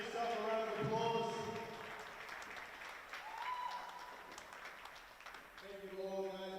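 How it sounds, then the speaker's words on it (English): A crowd at a live wrestling show in Adelaide applauds, clapping rising and fading in waves beneath someone speaking over a microphone. "Give yourself a round of applause."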